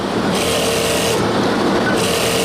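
A sewing machine stitches a seam through garment fabric with a loud, steady, dense mechanical whir that runs without a break for the whole stretch and carries no talk.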